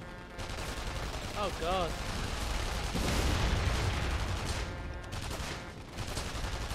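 Heavy gunfire in The Saboteur, a WWII-era shooter, rattles continuously in loud overlapping bursts with a deep boom partway through, while a man briefly exclaims.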